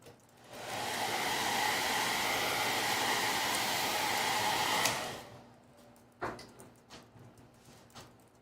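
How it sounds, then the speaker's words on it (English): A blow dryer heats fresh paint on a stencilled Christmas-themed piece, a steady close airy roar running about four seconds before cutting off, followed by a few faint knocks and rustles. "we'll heat that with the blow dryer"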